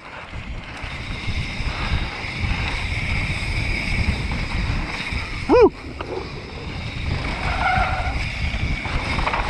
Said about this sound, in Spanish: ¿Fue mi freno lo que sonó?